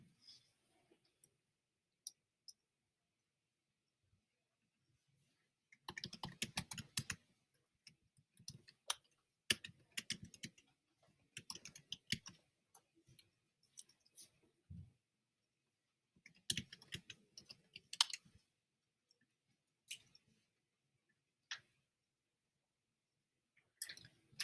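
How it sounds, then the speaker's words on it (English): Quiet clicks of a computer keyboard come in short clustered bursts of typing into a text box, separated by long silent pauses. "So type that in a text box."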